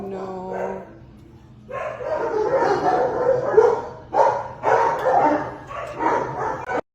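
An 11-month-old Labrador mix puppy barks and yips in short, close bursts, with whimpery tones between them, in a quiet room.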